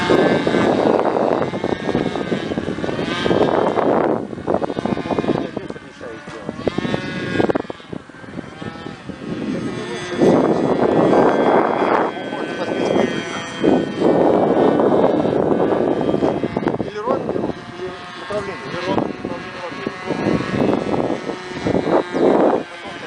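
A model airplane's engine drones steadily in flight at middling throttle, rising and falling slightly in pitch as the craft climbs and banks, loud and continuous throughout without voices.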